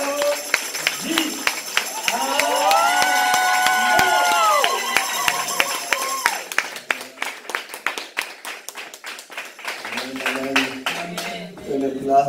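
A church congregation cheers, whoops and applauds together, loud and sustained at first, then breaking into brisk rhythmic clapping that carries on to the end, with voices mixed in.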